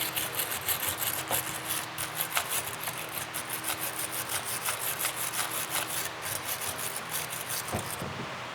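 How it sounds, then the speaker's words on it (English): A wire brush scrubs a brake caliper on a 2014 Mazda CX-5, a continuous close, harsh scratching with a quick back-and-forth rhythm and a faint knock near the end. "with the wire brush, we're gonna go ahead and clean the caliper"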